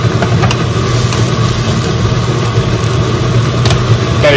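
A gas stove burner roars with a flame in a steady, loud, unbroken rush and a low rumbling undertone, with no speech.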